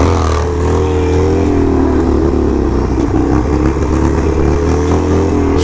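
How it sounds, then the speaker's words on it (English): A motorcycle engine runs loud and close on the road, a continuous throaty drone without clear breaks, as the rider builds up to a wheelie. "I've gone this far without doing a wheelie. I guess I better do something, huh?"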